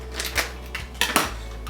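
Clean scissors snip something off while home-brewing beer, giving a few short, close, crisp cuts in quick succession.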